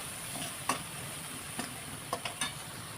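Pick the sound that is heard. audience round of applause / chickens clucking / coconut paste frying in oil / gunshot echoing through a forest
coconut paste frying in oil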